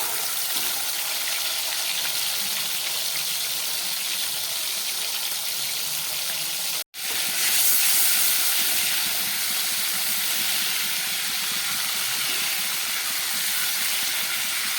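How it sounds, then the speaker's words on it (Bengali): Prawns fry in a pan while jackfruit and prawn curry is being made, a steady loud broadband sizzle and hiss running throughout, briefly cut once near the middle, with no talk. "এবারে এর মধ্যে আমি একটু চিংড়ি মাছ ছিল সেটাকে ভেজে নিচ্ছি"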